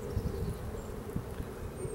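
Honey bees buzz outside their hive on a first orientation flight, a faint, steady droning hum with brief louder passes as individual insects fly close, heard alone over soft outdoor background.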